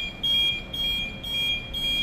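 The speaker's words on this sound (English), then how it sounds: "now the off heading alarm has come" Off-heading alarm on a Yokogawa PT500 ship autopilot: a repeating electronic beep with steady high tones pulsing about twice a second, fairly loud over a low engine-room hum, with no talk.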